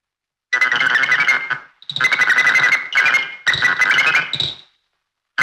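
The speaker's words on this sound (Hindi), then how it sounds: "टेलीफोन की घंटी बजी है।" A loud electronic ringtone trills in three long bursts with short pauses between, followed by a shorter fourth burst, harsh and close.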